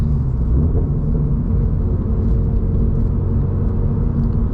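A 2024 Subaru BRZ Limited engine accelerates under throttle, a loud, steady low rumble and drone heard from inside the car, continuous with no talk over it.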